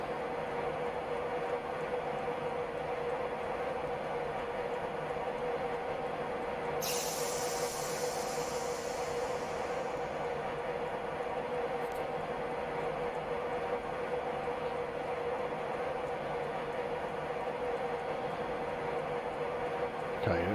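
A Class 91 HST train in Train Simulator Classic runs steadily at speed on the London St. Pancras route, with a continuous rumbling drone of motor and rails and a brief hissing burst partway through, no talk.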